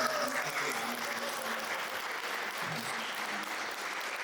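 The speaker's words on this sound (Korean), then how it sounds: "우리 다시 한번 큰 박수로" Church congregation applauding at a special lecture for all members, a steady, dense clapping that continues evenly throughout, moderately distant, with faint voices beneath.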